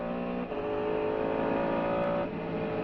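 Onboard Mercedes CLR race car at speed on the Le Mans circuit, engine holding a steady high-pitched whine with a brief dip near the start and another near the end, fairly faint and continuous.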